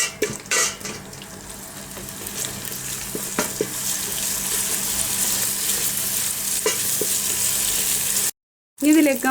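Crushed garlic and three green chillies sauté in a pan for home-made chicken mandi, giving a steady close sizzle with scraping stirs and clinks, then a sudden cut to silence before the frying sound returns.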